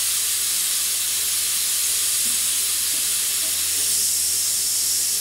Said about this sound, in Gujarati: ચારથી પાંચ વિસલ થઈ ગઈ છે,